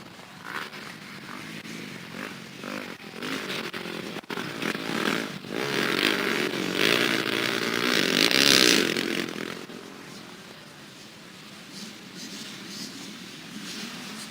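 Several 85cc open-class two-stroke dirt bikes racing past a finish line, a loud buzzing rasp of engines that builds, peaks mid-clip and fades as the pack passes.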